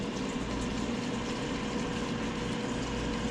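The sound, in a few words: air fryer running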